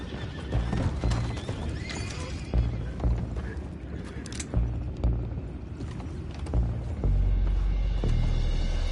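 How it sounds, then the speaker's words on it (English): Horses in Red Dead Redemption 2 whinny and neigh repeatedly while hooves clip-clop, mixed with creaking, clanking mechanical noises, all fairly close and busy. "go find out about those horses down below"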